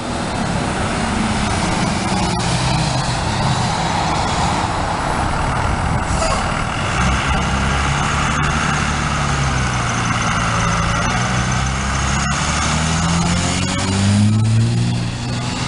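School bus on a city street, its heavy diesel engine rumbling and idling loudly up close, with a hiss of air brakes and shifting engine tones as it pulls along, no talking.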